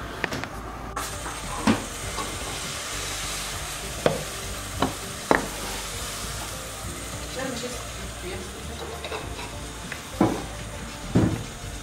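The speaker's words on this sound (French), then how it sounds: "je vais commencer à faire mes crêpes" Crepe batter cooks in a buttered frying pan over low heat, giving a soft steady sizzle broken by several clinks and knocks of utensils against the pan, with some talking in the background.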